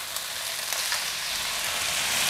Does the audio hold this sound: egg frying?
yes